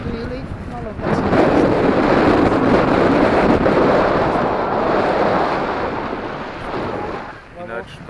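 Cold wind roars across the microphone during a tandem paragliding flight near Ďumbier, a loud, steady buffeting that surges after the first second and holds nearly throughout before easing slightly near the end.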